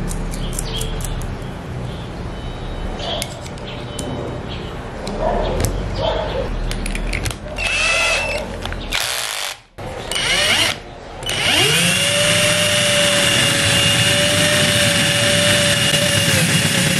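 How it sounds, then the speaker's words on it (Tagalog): Power tool grinding down the diameter of a motorcycle hand-brake bushing, with bursts of whirring and scraping, a brief pause, then a loud sustained high-pitched run with a steady whine to the end. "Buwasan ko pa ng konti itong diameter ng bushing."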